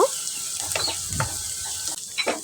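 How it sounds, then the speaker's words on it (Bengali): Chopped garlic is stirred in hot oil in a pan, giving a continuous close sizzle and crackle with soft scraping strokes from the stirring. "রসুন কুচি দিয়ে দিয়েছি এখন এগুলো একটু নেড়ে চেড়ে মিশিয়ে নিব"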